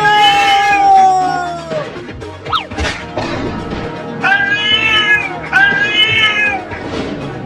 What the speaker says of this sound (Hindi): एक खतरनाक बिल्ली घर में कैसे आ गई?